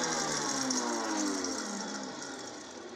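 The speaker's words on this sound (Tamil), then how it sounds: "இது எல்லாத்தையும் போட்டு ஒன்றா வச்சு அரைச்சிக்கிறோம்" Kitchen mixer grinder blending coriander leaves, green chillies and cumin for spiced buttermilk, a steady close motorized whir running throughout at moderate level.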